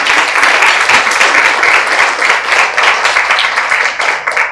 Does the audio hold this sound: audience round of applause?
yes